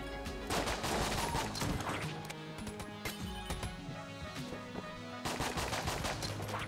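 A gun firing in the video game Enter the Gungeon, with dense, rapid bursts of shots that run almost continuously, loud and close, with brief gaps between volleys and metallic clinks mixed in.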